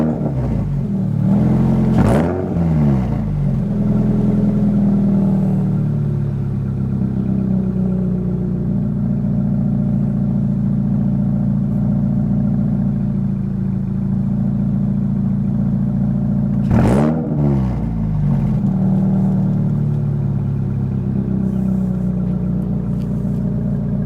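Toyota GR86 fitted with an AWE Touring exhaust pulling away, a steady droning engine note with two sharp revving sweeps as it accelerates and shifts, loud and close with no talk.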